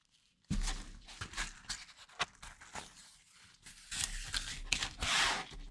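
Sealed pieces being peeled off produce close, crisp tearing and crinkling sounds in irregular bursts, starting abruptly after a brief silence and growing louder toward the end.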